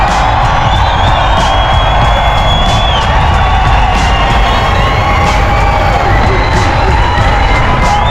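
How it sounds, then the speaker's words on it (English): Dense, loud crowd cheering and whooping at a Mondello Park drift event, a continuous roar of many voices with occasional claps, sustained without pause throughout. "crowds here at Mondello Park are insane"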